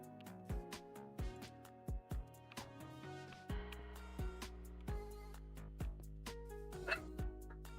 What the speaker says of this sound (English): Doggos are barking.